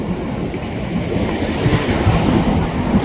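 A train rumbling past up close, a steady loud roar with rhythmic clacking of wheels over rail joints.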